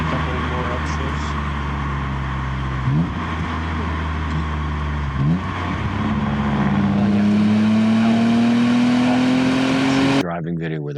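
Car engine revving hard through a series of downshifts and upshifts, pitch sweeping up and down loud and close, with people talking over it before it cuts off near the end.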